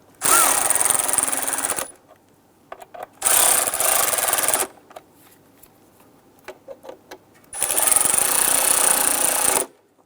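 Power screwdriver bursts snugging the throttle body screws on a 2011-2021 Jeep Grand Cherokee 3.6L V6, three loud whirring runs of about one to two seconds each, separated by quiet gaps with faint clicks and handling noises.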